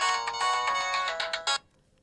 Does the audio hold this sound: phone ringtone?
yes